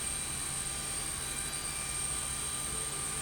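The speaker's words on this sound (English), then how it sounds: "the airplane, the engine sounds, the APU sound, it is a mod for this airplane" Steady airliner engine hum of an Embraer E175 with its auxiliary power unit running, a continuous even drone with high whine tones and no breaks or talk.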